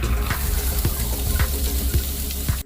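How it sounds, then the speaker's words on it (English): Onions frying in hot olive oil, a dense steady sizzle with a regular rhythm of soft stirring scrapes about every half second, close and fairly loud, without speech. "Now we will add the onions."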